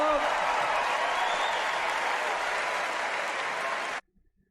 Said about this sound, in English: You should be suspicious of any audience that claps that much for Hillary Clinton